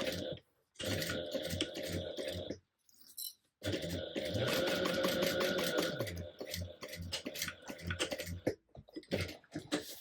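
A sewing machine bastes fabric at a 1/8-inch seam allowance, its motor running in steady mechanical bursts broken by a few short pauses, close and fairly loud with no talking.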